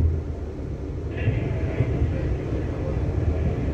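A London Northwestern Railway train rumbles along on the move, a steady low roar and rattle heard from inside the carriage, with a brief faint tone and no clear talk.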